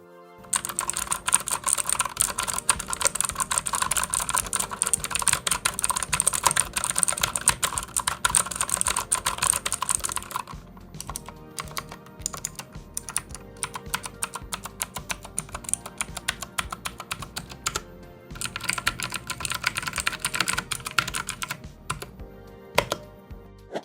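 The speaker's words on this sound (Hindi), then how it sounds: "एज ये कीबोर्ड ऑप्टिकल ब्लू स्विचेस के साथ है, तो हमें ये लेजेंडरी पुटुक पुटुक की साउंड प्रोवाइड करता है और इसकी साउंड कुछ यूं है।" Steady typing on a T-Dagger Bora TGK313 mechanical keyboard with optical blue switches, producing sharp, rapid clicky keystrokes close up, with a couple of short pauses and no voices.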